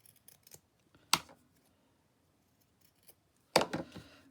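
Scissors snip through folded fabric in two crisp, close cuts a couple of seconds apart, with light handling rustles between them and no talking.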